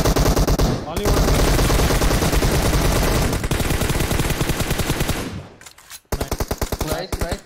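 Loud automatic gunfire from weapons in the mobile battle royale game PUBG Mobile rattles in long, rapid sustained bursts, drops out briefly, then returns as shorter volleys, with voices faintly underneath.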